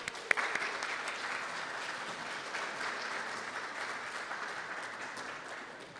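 An audience at a poetry reading applauds to welcome poet Will Alexander, a steady, even wash of clapping heard from a distance, fairly soft and sustained throughout.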